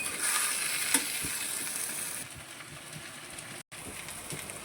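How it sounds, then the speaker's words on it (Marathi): A vegetable curry sautés in a pan with a continuous sizzle, and a spatula scrapes and stirs it. The sizzle is brighter at first, settles lower, and a brief silent gap comes near the end. "अजून पण परतवतेच आहे"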